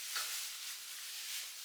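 Baked beans with molasses and brown sugar cooking uncovered in a pan, a faint, steady soft sizzle and bubbling hiss with no voices.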